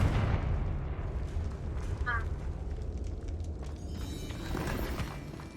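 Confringo explosion spell in Hogwarts Legacy, a loud rumbling blast at the start that tails off into low booming noise with game sounds over the rest.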